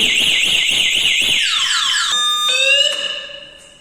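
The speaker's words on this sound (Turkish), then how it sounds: "Neresiyle oynarsanız oynayın anında alarm çalıyor ve yüksek bir sesle çalıyor." A loud electronic anti-theft alarm on a Motolüx F4 electric motorbike wails up close, cycling through warbling, descending sweeps and steady beeping tones before fading out at the end.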